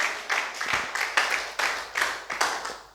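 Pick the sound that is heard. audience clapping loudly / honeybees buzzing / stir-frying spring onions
audience clapping loudly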